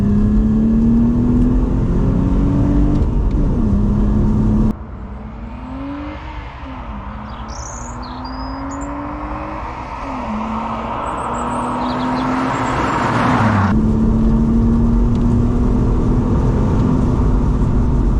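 A 2002 BMW 330Ci E46's exhaust note rising and falling as it accelerates through gears, loud and close with steady road roar underneath, no talking.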